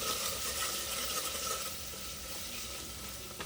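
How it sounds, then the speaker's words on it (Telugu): Egg curry mixture with ginger and turmeric being stirred in a hot pan: a steady, close sizzle with continuous soft scraping and swishing of the spoon, constant in level throughout. "అదేవిధంగా కొద్దిగా పసుపు అయితే వేసుకోండి ఈ మిశ్రమాన్ని ఒకసారి కలుపుకోండి"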